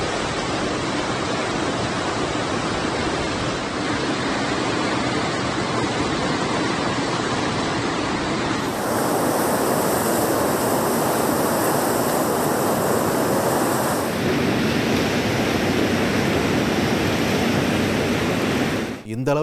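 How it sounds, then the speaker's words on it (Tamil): The Chenab river rushes past fast and hard, a loud unbroken roar of flowing water that shifts in tone partway through and holds steady to the end. "ஸோ செனாப் நதி தற்பொழுது எப்படி பாஞ்சிட்டு இருக்கு"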